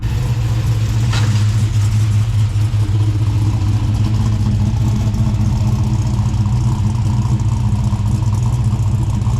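LS1-engined VN Commodore idling and creeping slowly in a workshop, a steady deep V8 rumble with a faint clatter early on, constant and close without rises in revs.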